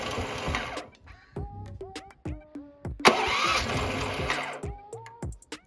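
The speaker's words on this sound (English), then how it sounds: "Electric start." A 420 cc engine is cranked with its electric starter in repeated bursts, each a whirring grind with a short buzzing sputter that fails to catch, ending in sharp clicks, close by.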